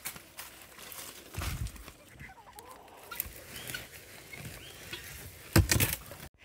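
Backyard chickens cluck in short, scattered bursts at moderate distance, mixed with rustling and handling noises outdoors.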